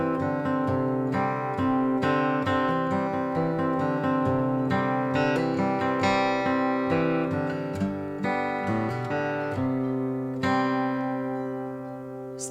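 An acoustic guitar picks the intro of a song, a moving bass line under a repeated high C drone, sometimes in step and sometimes offset, played steadily and close with no talking.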